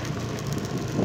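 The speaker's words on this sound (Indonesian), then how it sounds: "Di sini anginnya lumayan kencang juga gitu ya" Strong outdoor wind buffets the microphone on an open road in the Grand Harmoni 5 housing area in Tenjo, a steady low rumble that swells slightly near the end, with no talking.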